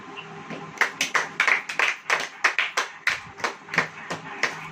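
A church congregation claps together in a steady rhythmic beat, a dozen or so crisp, evenly spaced claps at moderate loudness with no talk over them.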